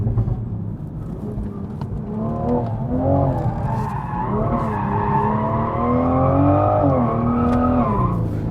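Toyota Supra tuned past 500 horsepower, traction control switched off, with tires squealing and skidding in long wavering screeches over a loud, revving engine, close and continuous throughout.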